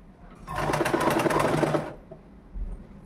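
A sewing machine stitching a gathered umbrella frock, a fast rattling run of needle strokes lasting about a second and a half, close and loud, then stopping before a soft thump.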